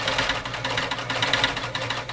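An OMEGA 307 sewing machine stitches leather in a steady, rapid, close mechanical whir with an even needle rhythm throughout.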